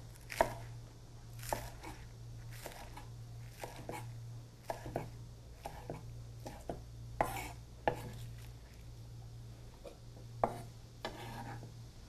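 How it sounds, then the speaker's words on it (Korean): A knife chops green onions into 4 cm pieces on a cutting board, giving a series of sharp, irregularly spaced chops with pauses between them, close and fairly quiet over a low steady hum. "실파는 쪽파나 실파는 이렇게 머리 부분은 좀 두꺼우면 이렇게 반을 갈라주세요. 그래서 한 4cm로 썰어주세요."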